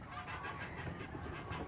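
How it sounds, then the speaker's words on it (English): Backyard alarm geese on a small permaculture goat homestead give a steady run of nasal honks and clucking calls at moderate distance, with no voices. "so it sounds like Paige, if you can hear the geese, our alarm geese, she's bringing hazelnut out."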